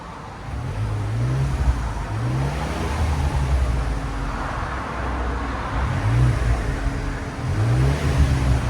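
A 2016 Ford Expedition with a twin-turbo 3.5L EcoBoost V6 and Flowmaster DBX exhaust rumbles with a low, subdued drone, rising into a couple of gentle revs over steady background noise.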